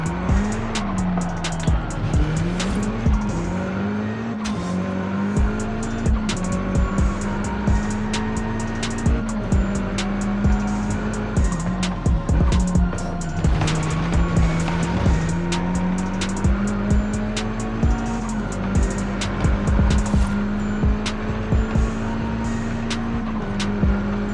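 A car drifting in the racing game Forza Horizon 5, its engine droning and wavering in pitch while tires squeal and screech almost without a break, with clicking game effects on top, loud and sustained, no talk.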